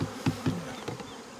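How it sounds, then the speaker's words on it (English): Honey bees buzz in a steady low drone during a hive field trial, with a few brief louder passes close by and faint handling sounds underneath. "half a cup, a level half a cup is really close to 300 bees."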